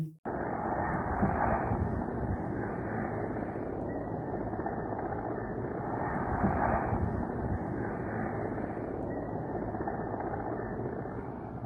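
Military helicopters flying over Noshki, Balochistan, a steady loud rotor and engine drone that holds for the whole stretch, swelling slightly twice as the aircraft pass, with wind buffeting the microphone.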